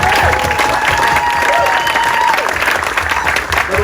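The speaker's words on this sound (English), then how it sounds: "A round of applause for Daniel Whole Life as an audition." Loud, dense audience applause after a music performance, a sustained roar of clapping with crowd noise, a sustained tone running under the first couple of seconds.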